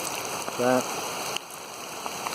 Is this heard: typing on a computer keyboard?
no